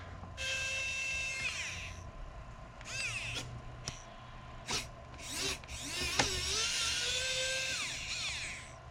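Screws being driven out of an Nvidia GeForce RTX 2080Ti graphics card with a power screwdriver, several short close whirring bursts with rising and falling pitch, separated by brief pauses and small clicks.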